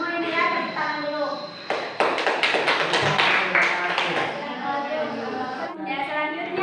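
Classroom students clapping together after a teacher's praise, a burst of sharp claps in the middle of the clip, framed by a voice talking before and after.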